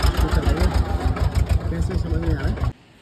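A tractor engine chugs loud and close with a fast, steady pulsing beat on a mountain route toward Kedarnath, then cuts off abruptly near the end.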